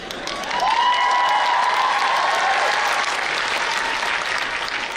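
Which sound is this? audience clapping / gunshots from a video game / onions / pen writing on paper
audience clapping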